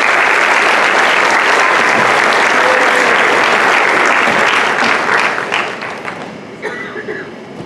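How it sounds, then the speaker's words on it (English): Audience at a pageant applauding loudly, a dense sustained wash of clapping that holds steady for several seconds before thinning out and fading into scattered claps. "we'd like to give them a round of applause"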